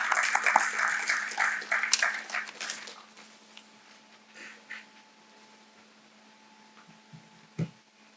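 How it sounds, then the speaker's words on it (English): Seminar audience on digital lending in India gives a round of applause for the keynote speaker, fairly loud at first, then thinning to scattered claps and fading into a quiet room with a low hum. "Please join me in welcoming Mr. Srinivasan with a warm round of applause for the keynote address."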